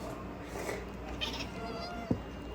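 A house cat meows softly indoors, a couple of faint cries against low room noise, followed by one short sharp sound near the end.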